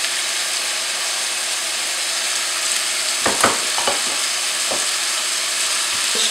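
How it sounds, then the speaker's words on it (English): Apples with ginger, cinnamon and cardamom simmer over very low heat in a pan, giving a steady soft sizzle, with a few light stirring scrapes and clicks partway through. "So on a very low temperature, I'm gonna simmer my apples"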